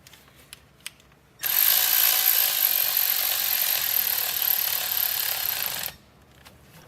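A ratchet snugging a bolt on the coolant bypass valve of a 2013-2016 Ford Escape 1.6L EcoBoost, a loud, steady four-second run of fast clicking that starts and stops abruptly, with quiet shop noise before and after.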